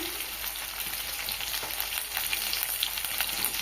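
Lightly fried potatoes, chopped onion, salt and cut eggplant crackle in a pan while being stirred. The frying noise is a steady, close hiss with faint scraping of the spoon and no talking.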